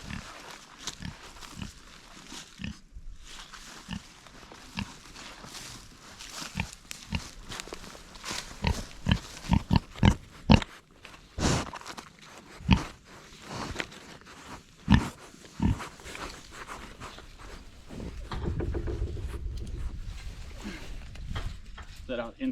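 Small pigs graze on grass, giving repeated close grunts and chewing sounds in irregular bursts while people talk nearby.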